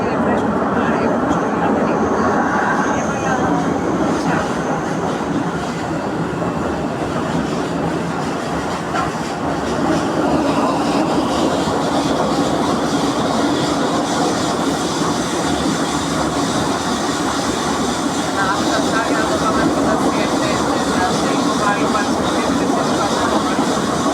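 Athens metro train running, a loud continuous rumble and rail roar with a clickety-clack rhythm and a pitch shift midway, heard from on board or close to the track, with some talk in the background.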